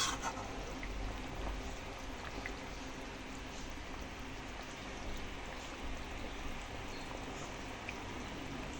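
Bhola fish curry simmers to a boil in a pot, a faint, steady bubbling and gentle sputtering that stays even throughout with no voices.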